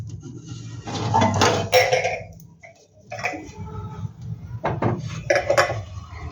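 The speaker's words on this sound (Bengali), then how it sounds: "এবার এটাকে আমি একটু ঢাকা দিয়ে দেবো।" A lid is handled and set over a pan of Bengali pithe, with clattering metal knocks and clinks in two bursts separated by a short lull, close and fairly loud.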